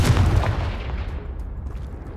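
Confringo spell blast in the Hogwarts Legacy video game, a loud booming burst at the start that rumbles and decays over about two seconds.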